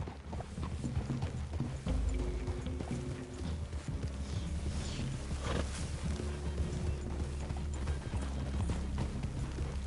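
Horse hooves clip-clop steadily at a walking pace in Red Dead Redemption 2, layered over low ambient game sound and a soft continuous hum, moderately close and even in loudness throughout.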